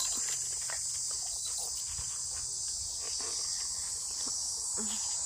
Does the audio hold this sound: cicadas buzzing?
yes